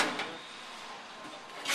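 The metal doors of a Crown order picker, dented and not closing properly, give two brief clattering knocks, one near the start and one at the end, with a faint hiss between them.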